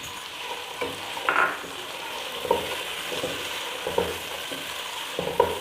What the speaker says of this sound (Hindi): इन सभी चीज़ों को मैं 1-2 मिनट के लिए बस भूनूंगी